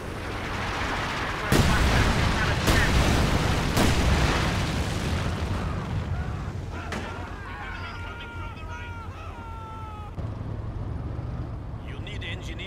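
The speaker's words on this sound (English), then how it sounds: "Incendiary artillery barrage." Incendiary artillery barrage in Company of Heroes 2, a World War II strategy game: several loud booming impacts in the first four seconds give way to a rumbling fiery wash, with brief tonal calls near the end.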